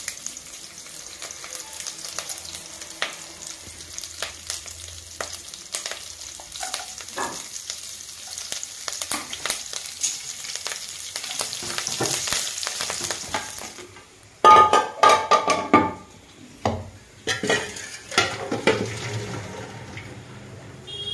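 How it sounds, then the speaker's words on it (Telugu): Curry leaves and tempering seeds sizzle in hot oil in a home kitchen while a chaat of raw chickpeas is being made, a steady frying hiss that bursts louder and crackles sharply as the leaves and seeds hit the oil, with no talk. "దీంట్లో కరివేపాకు, తాలింపు గింజలు వేస్తున్నానండి."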